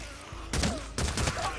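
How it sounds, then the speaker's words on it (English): Gunfire in the video game Days Gone while picking off freakers from the Sawmill Horde, two sharp bursts of shots about half a second apart, loud and close, with a ringing tail after each. "I'm just going to pick them off with gunplay here"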